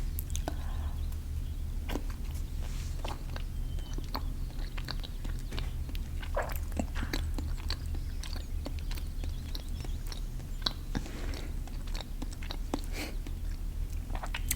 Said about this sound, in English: It'll be quite crunchy, but you've got strong teeth, so not to worry.